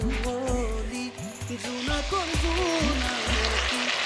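Meat tipped into a pan of oil and lightly browned onions, giving a steady close sizzle with a regular rhythm of about eight quick scraping or stirring strokes over a few seconds, no talking.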